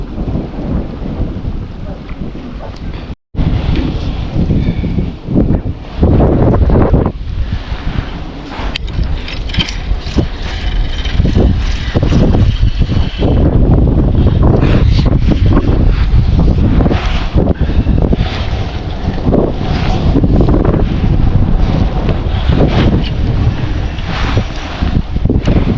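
Strong wind gusts across a private fishing lake and batters the microphone with loud, continuous roaring buffets, broken by one sudden brief dropout near the start.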